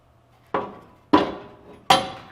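A metal oil pan is lowered and set into the engine bay of a Dodge Dart during an LS engine swap, giving three separate close clunks about half a second apart, each fading quickly, with no talk.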